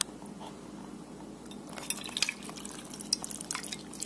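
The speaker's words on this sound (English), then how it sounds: "let's add some warm water to him" Warm water trickles and drips onto a plastic color-changing toy car, a soft close splashing that grows busier toward the end, with no voices.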